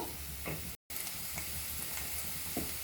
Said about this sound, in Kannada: ಈ ತುಪ್ಪದಲ್ಲಿ ಈರುಳ್ಳಿನ ಫ್ರೈ ಮಾಡ್ತಾ ಇರಬೇಕಿದ್ರೆ ಒಳ್ಳೆ ಫ್ಲೇವರ್ ಬರ್ತಾ ಇರುತ್ತೆ